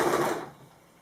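A sewing machine runs briefly, stitching fabric strips into bias binding, with a short close whirring burst that fades out within half a second.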